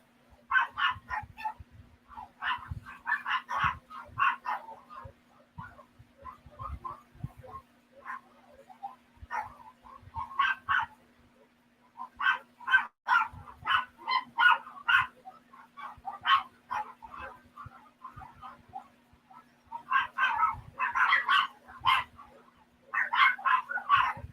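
Several small Chihuahuas bark and yip excitedly at someone arriving home, bursts of sharp high barks in repeated volleys with short pauses between, loud and close indoors over a faint steady hum.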